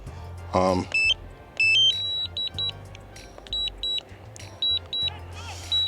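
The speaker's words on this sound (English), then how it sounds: "so now it's beeping, telling me that it's coming back home" Short electronic beeps from a DJI Neo drone returning home sound in irregular pairs and clusters, fairly loud and close, over faint background noise.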